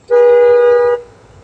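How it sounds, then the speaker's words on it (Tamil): A single car horn honks once, a steady clear tone lasting about a second, close and loud, then stops. "ஹார்ன் அடிங்க"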